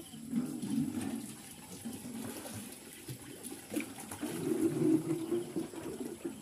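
Water draining out of a tilapia fish tank during a harvest in hot weather, a steady low rushing gush that swells louder near the end, with no voices over it.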